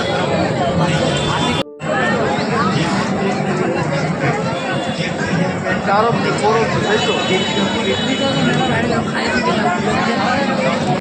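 Dense crowd chatter fills a small, shop-crowded Ratha Yatra fair on a hot day, a constant babble of many voices close around, with one brief dropout near the start.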